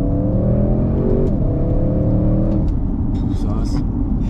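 An Audi RS6 weighing about 2,150 kg accelerates hard, its engine note climbing steadily and loud from inside the cabin while people talk over it.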